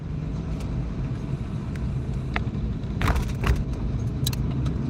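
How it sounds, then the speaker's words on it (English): Car driving along, a steady low road rumble and engine drone inside the cabin, with a few light rattles and jangles on top. "We're driving to 7-Eleven getting some booze."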